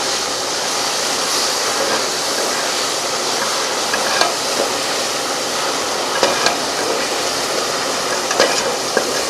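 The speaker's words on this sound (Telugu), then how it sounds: "అల్లం తెల్లుల్లి పేస్ట్ అయితే కొద్దిగా వేసుకుంటున్నాను ఇప్పుడైతే బాగా కలుపుకోవాలి" Ginger garlic paste fries in a pan while being stirred for biryani, making a constant hissing sizzle with a few faint scraping clicks.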